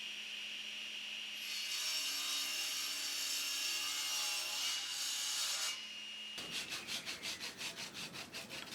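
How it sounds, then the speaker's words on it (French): A hand saw cuts two wooden pegs for a workbench top, and their tips are then pared to a bevel. Close, steady rasping saw strokes build in intensity, stop, and give way to quick rhythmic scraping strokes, with no talking. "Je découpe 2 chevilles, je taille un peu la pointe en biseau"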